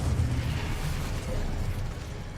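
Incendio fire spell cast in Hogwarts Legacy, a dense, roaring burst of flame and magic impact that fills the whole moment loudly, with heavy low rumble and no clear pauses.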